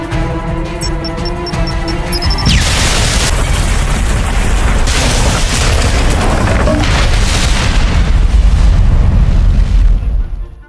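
A camp blows up in an action film: a huge, loud blast hits after a brief tonal lead-in, then rolling debris and rumbling fire sustain for several seconds before cutting off.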